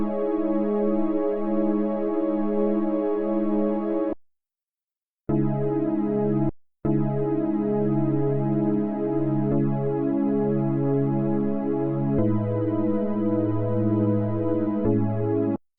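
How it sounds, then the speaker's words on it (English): A plain, dry FM synth tone plays a sequence of steady sustained notes, cutting out briefly twice, bright and buzzy with no added reverb. "And the operator patch alone just sounds like this."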